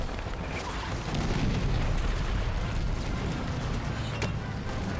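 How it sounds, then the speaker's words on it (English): Bombing in the strategy game Hearts of Iron 3, a faint, continuous rumbling boom with dull muffled blasts rolling on throughout, one sharper hit near the end. "Someone's trying to bomb us there."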